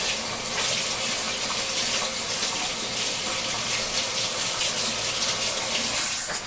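Warm tap water running from a faucet into a cup, a steady, fairly loud gushing stream heard close and alone for several seconds.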